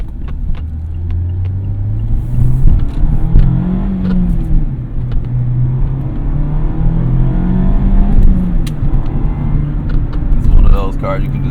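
A 2020 Mazda Miata RF MX5 engine revs and pulls hard from inside the cabin, a loud low droning rumble rising and falling in pitch through gear changes, with occasional talk over it.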